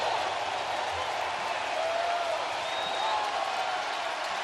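Baseball crowd at Busch Stadium in St. Louis, Cardinals hosting the Dodgers, giving a sustained standing roar and applause, a dense wash of cheering heard from within the stands.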